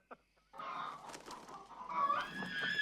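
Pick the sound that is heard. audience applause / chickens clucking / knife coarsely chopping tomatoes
chickens clucking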